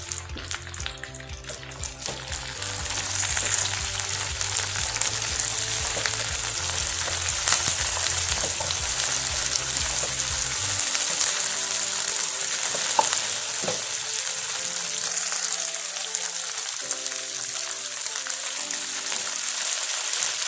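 Curry leaves, capsicum and green chilies sizzle steadily in hot frying oil for an aloo fry, a continuous close crackling hiss with stirring scrapes and no voices.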